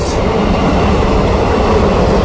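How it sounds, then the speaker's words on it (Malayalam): Loud, continuous roar of a night train rolling past nearby on a railway track near Trivandrum, wheels grinding steadily with a brief high squeal at the start. "ഈ ട്രെയിൻ കടന്നു വരുന്നത് നോർത്ത് ഡയറക്ഷനിൽ നിന്നും പോകുന്നത് സൗത്ത് ഡയറക്ഷനിലേക്കാണ്."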